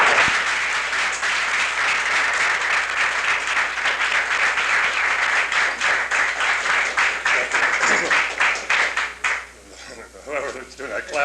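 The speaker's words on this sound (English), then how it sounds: "Whoever's doing that clapping, those aren't the sports writers, I know that." Sustained audience applause at a 1977 press conference for a new UNO basketball coach, a dense wash of many hands clapping, fairly loud and steady before thinning out, with a voice talking over the end.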